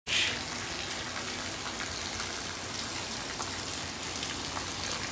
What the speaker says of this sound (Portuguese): Faz um bom tempo que chove.